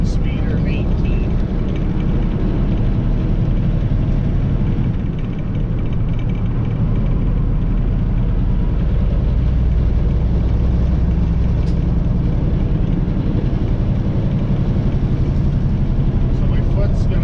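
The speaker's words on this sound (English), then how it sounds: "So my foot's going to come off the fuel pedal, goes out of gear, then into the next gear." A truck with an 18-speed Eaton Fuller transmission, its diesel engine droning loud and steady as the driver lifts off the fuel pedal and shifts gears, with someone talking over the engine throughout.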